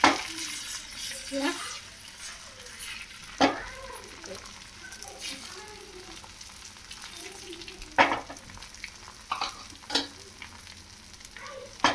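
An egg is added to a hot pan in a home kitchen, sizzling and frying steadily while a utensil stirs and scrapes, with sharp clicks and knocks of the spoon against the pan scattered throughout.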